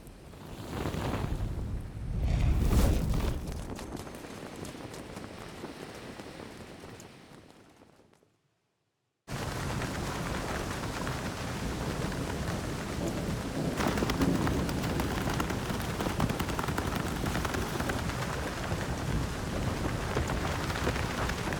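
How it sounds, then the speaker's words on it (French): Heavy rain pours outdoors with rolling thunder, a loud, dense and steady wash. The sound swells early, drops out briefly, then returns at full strength. "Quand tu travailles avec la pluie dans la gueule"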